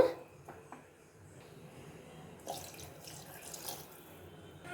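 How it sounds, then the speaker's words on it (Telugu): Water pours and splashes softly into a pot of thick black-eyed pea and soya chunk curry, a steady running trickle that swells slightly toward the end, faint and with no talking. "ఇంకొద్దిగా వాటర్ వేద్దాము"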